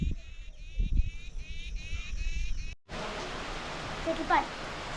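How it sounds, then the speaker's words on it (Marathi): Steady hiss of rain falling, faint and broadband, with a brief pause and a distant voice partway through. "पाऊस बघा आपल्याकडे आला रे आला"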